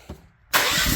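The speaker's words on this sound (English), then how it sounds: "Fired right up" A Honda lawn tractor engine, choked, catches abruptly after a brief quiet pause and settles into a loud, steady running roar close by.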